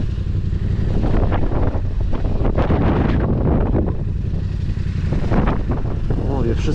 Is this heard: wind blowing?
yes